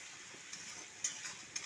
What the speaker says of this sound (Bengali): আর শুকনো পেঁয়াজটাকে ভালো করে ভেজে নেব